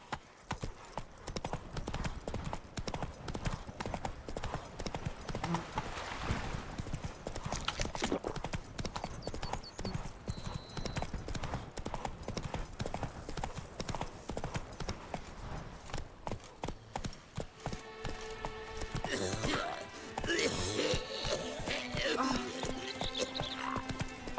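Roach the horse galloping in The Witcher 3 game, a rapid continuous clip-clop of hooves up close with a whinny, and talking plus other game sounds layered over it toward the end.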